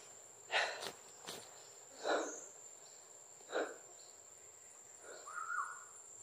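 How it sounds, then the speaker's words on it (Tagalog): A constant high insect drone runs throughout, with a few soft scattered calls and muffled thumps rising above it at intervals. "Dami ng insekto dito."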